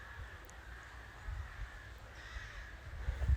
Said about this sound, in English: Crows are giving it rah.